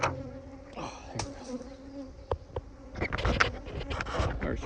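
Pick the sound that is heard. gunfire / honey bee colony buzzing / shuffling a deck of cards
honey bee colony buzzing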